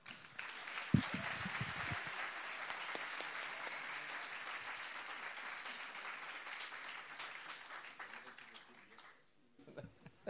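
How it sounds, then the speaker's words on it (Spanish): An audience at a university welcome day applauds the organising team and the mathematics dean, a dense, fairly distant roll of clapping that holds steady, then thins and fades near the end as a few stray claps and a voice come through. "un aplauso al equipo de canal y al decano de matemáticas, que no le hemos aplaudido antes"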